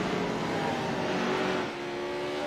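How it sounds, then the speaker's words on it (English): Pro Lite 2 race trucks run a Charlotte rallycross circuit in the iRacing sim, their engines making a steady, loud, dense roar that dips slightly near the end. "You can hear the cars."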